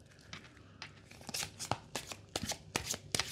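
A deck of smooth-finished oracle cards is shuffled up close, giving crisp riffling bursts in an irregular rhythm that grow louder toward the end.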